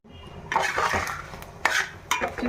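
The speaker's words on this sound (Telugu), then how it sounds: "మళ్ళీ మూత పెట్టేసుకోవాలి" Metal lid set back onto a pot of Andhra-style fish curry with curry leaves, a few clinks and clatters of metal against metal after a quiet start, close and moderately loud.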